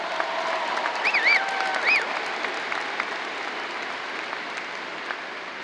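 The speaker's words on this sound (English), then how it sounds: "Can we have another round of applause for that?" Steady applause from a high school graduation crowd, a continuous wash of clapping with a few whistles cutting through near the start.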